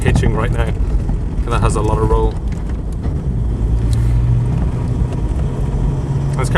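A KAHN Defender 110 with the standard Defender 110 engine drones low and steady while driving, with road and wind noise underneath as people talk inside the cabin.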